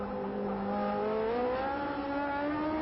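A 1972 Formula One race car at the French Grand Prix, its engine note holding a steady high drone with a slowly rising pitch as it runs through a bend, fairly close and continuous, no talk over it.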